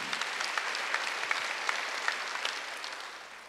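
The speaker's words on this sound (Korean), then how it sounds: "박수하면서." A church congregation claps together during a Wednesday worship service, a dense, roomy wash of hands that holds steady and then gradually thins and fades toward the end.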